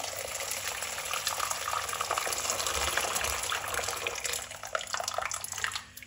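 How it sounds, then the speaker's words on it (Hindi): Hot water pours over soaking wheat in a container, a continuous rushing, splashing sound, steady and close, ending abruptly near the end. "अब इसमें हम डाल देंगे गर्म पानी और पूरी रात इसको भिगो के रख देंगे"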